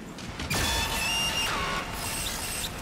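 A broken Glamrock Chica animatronic in a video game gives off whirring, grinding mechanical noises with creaks and squeaky sweeping tones. It runs continuously and fairly close, with no speech over it.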